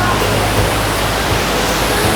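Elephanta Falls waterfall in Meghalaya, heard from close by at its third viewing point: a steady, loud broadband roar of falling water filling the whole clip, with no talk over it.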